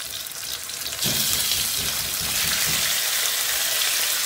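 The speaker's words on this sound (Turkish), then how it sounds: "tenceremizde yağımız ısınmaya başladı. Hemen tavukları atıyoruz." Chicken pieces drop into hot oil and the frying bursts into a loud, steady crackling sizzle that continues to the end.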